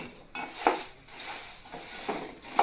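Garlic frying in a pan while making Nellore karappodi, with faint close sizzling and light stirring scrapes of a utensil against the pan, no voices.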